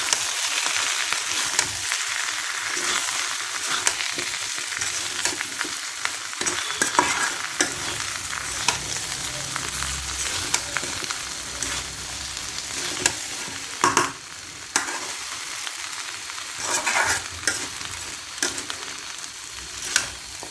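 Mango pickle with ground mustard is stirred and fried in a pan, a steady close sizzle broken by repeated scraping strokes of the spoon, no talking.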